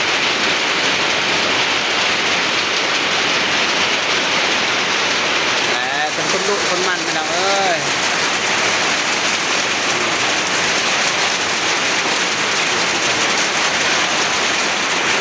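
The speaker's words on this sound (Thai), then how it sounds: "บรรยากาศก็ฝนตกเลย" Rain falls in a rural village in Laos, making a constant, even hiss at close range for the whole stretch. Someone talks briefly over it partway through.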